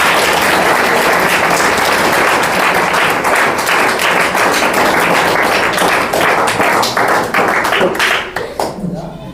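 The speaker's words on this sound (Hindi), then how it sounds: "सर के लिए एक बार जोरदार ताली से स्वागत करें।" Hearty applause welcoming a teacher at a 12th-class school farewell ceremony, loud and continuous clapping from a crowd of students and staff that tapers off abruptly near the end.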